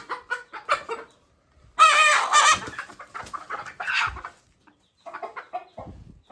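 Native village chickens cluck and crow close by in bursts, with one loud crow in the middle and quieter clucks before and after, separated by short silences.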